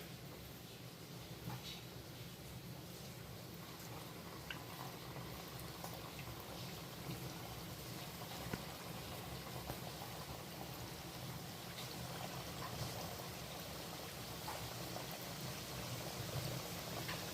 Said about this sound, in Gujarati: તો ચાલો તળી લઈએ.